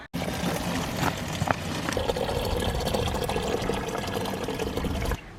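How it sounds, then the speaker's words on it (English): Water poured out at an allotment plot while tending tomato plants, a steady splashing, gurgling stream that runs continuously for about five seconds, close and fairly loud, with no talking. "now I'm going to add some water"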